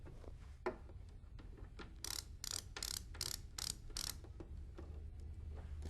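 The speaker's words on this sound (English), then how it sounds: "And we'll remove both of those screws" Screws being backed out of a support block on a Kustodian Walker bowling lane oil machine, a run of about eight quick rhythmic ratcheting clicks close by, faint and alone over a low hum.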